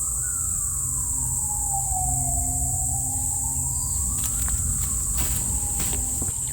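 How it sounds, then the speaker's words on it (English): A siren wails in long rising and falling sweeps, somewhat distant, over a constant high insect-like whine and low engine rumble, with a few clicks and knocks near the end and no talk. "I'm hearing sirens I've never heard down here before"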